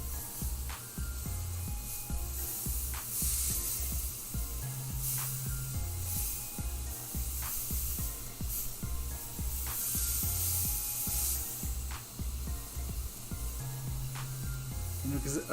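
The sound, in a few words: top feed airbrush spraying paint onto a shirt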